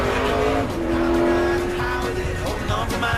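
NASCAR Nationwide Series stock cars racing at Bristol during the 2012 Food City 250, a loud continuous engine roar with cars passing close and tires squealing throughout, no talk.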